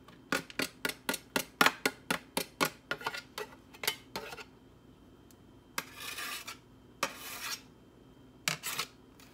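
A metal grater is tapped and scraped to clear off grated zucchini, a quick run of about a dozen sharp, close metallic knocks followed by a few longer rasping scrapes and scattered taps.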